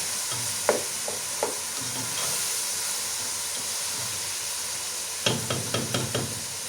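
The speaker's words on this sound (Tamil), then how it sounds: "இந்த ஸ்டேஜில் நாங்கள் இறாலை சேர்த்துக்கொள்வோம்" Prawns hit hot oil and are stirred into a prawn biryani masala, a continuous hiss of frying broken by a few scraping stirs early and a quick burst of spoon clatter near the end.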